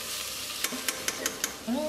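Yakhni masala fries in a pot for mutton yakhni pulao, a soft steady sizzle broken by five evenly spaced spoon scrapes against the metal, close and clear.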